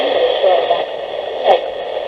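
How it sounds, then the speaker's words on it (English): A faint voice comes through hissing shortwave static on a Grundig FR 200 emergency radio, with a steady noisy band and a brief crackle partway through. "I can get something on the shortwave radio"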